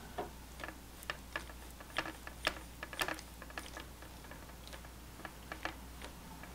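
Plastic Pumpkinhead horror reacher grabber toy clicking as its jaws snap, a rapid irregular run of sharp, close, fairly faint clicks like typing, with no talk.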